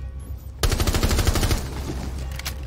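Gunfire in Rainbow Six Siege: a sudden burst of rapid automatic shots rattles fast and loud, then gives way to scattered fainter shots and a lingering echoing tail.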